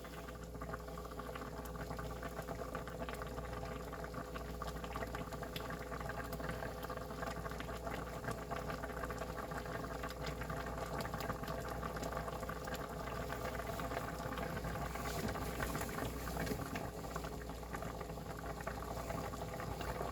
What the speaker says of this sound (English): the onions, and the mushrooms starting to boil down